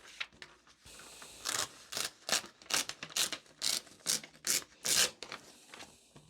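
Scissors snip through paper as a word is cut out, about a dozen crisp, rhythmic cuts in quick succession, close and fairly quiet, with no talking.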